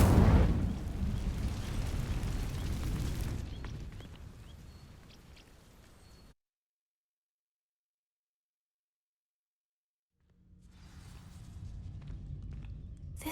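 A burst of fiery crackle and roar as a fire spell ignites dry vines in the Hogwarts Legacy video game, loud at first and fading over several seconds before cutting to silence, then ambient game sound returns.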